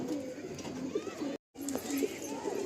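Andhra Kalanka pigeons coo softly in a loft, with a brief break partway through, while a person talks over the birds.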